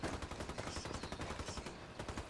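A mounted machine gun fires in loud, dense, rapid bursts that run without a break, a rattling barrage of shots close by.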